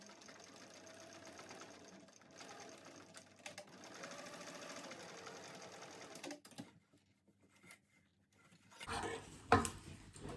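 A sewing machine stitches the exterior of a Wanderlust tote bag, running steadily and close for about six seconds, then stopping, with a few brief handling clatters and a louder rustle near the end.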